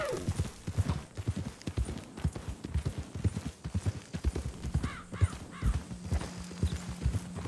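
Horse hooves clip-clop in a steady walking rhythm in the video game Red Dead Redemption 2, fairly close, with a brief neigh partway through and faint voices in the background.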